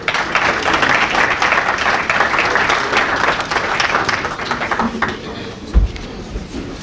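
A large audience at a sports forum in Kharkiv applauds steadily for several seconds, a dense wash of clapping that thins out toward the end with a soft thump.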